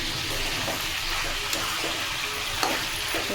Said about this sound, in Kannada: ಚೆನ್ನಾಗಿ ಫ್ರೈ ಆಗಿದೆ